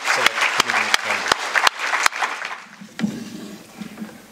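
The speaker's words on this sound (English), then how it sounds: "round of applause for HR and our select committee members" Applause from the audience at a state public safety department incentive awards event: sharp, close claps with a few loud individual hand slaps stand out early, then the clapping thins and fades away.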